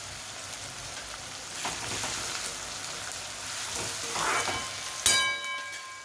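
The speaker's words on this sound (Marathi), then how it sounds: "व्यवस्थित परतून घेऊया थोडा लालसर होत आला कांदा" Onion and beans sauté in a pan for veg pulao, giving a steady close crackling sizzle, with a brief louder clatter near the end.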